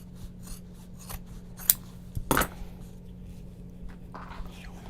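Scissors snip close by as they trim fabric seams, a few sharp cuts and rustles set against a low steady hum.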